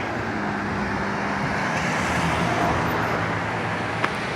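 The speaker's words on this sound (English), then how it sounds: "Have to be careful of traffic." Steady road traffic rumbles and hisses close by outdoors in Allentown, a continuous wash of passing vehicles with one small sharp tick near the end.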